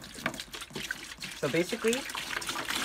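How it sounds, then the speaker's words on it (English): Engine coolant poured into a bucket gives a trickling, splashing flow under a voice, which talks over most of the pour. "now we're going to pour the coolant in this bucket"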